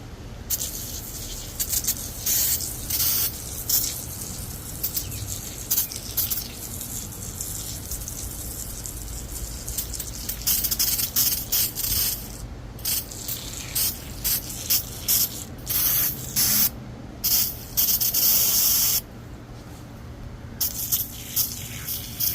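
Repeated bursts of degreaser spraying onto a 2016 Kia Forte 5 2.0L engine, a steady hiss that stops and restarts many times, close by, over constant low background rumble and no talking.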